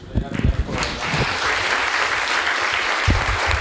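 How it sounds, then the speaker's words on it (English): An academic conference audience claps for a speaker after her talk, a dense, sustained round of applause filling the room, with a few low bumps of handling or movement near the start and end. "Let's give a warm applause to Shreya."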